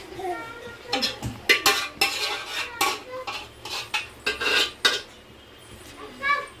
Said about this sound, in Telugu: ముందుగా కలిపెట్టుకున్న పెరుగు మసాలాలు కారం అవన్నీ ఉన్నాయి కదా అట్టి మిక్స్ ఇందులో వేసుకోవాలి